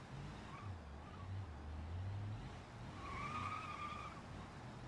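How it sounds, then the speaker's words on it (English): Car engine in the BeamNG video game revving through several seconds of rising and falling tones, with a tire squeal-like whine in the middle, steady and fairly close without talk. "Gonna have to rev it"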